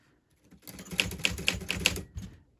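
A Smith Corona typewriter clacks under quick fingers, a burst of about a dozen sharp key strikes with a few bell-like metallic pings, close and fairly loud, starting and stopping abruptly.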